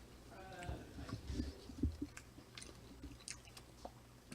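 Someone chews a bite of steak fajitas wrapped in a non-GMO tortilla, soft wet crunches and squishes close to the mic with small pauses, quiet and without speech.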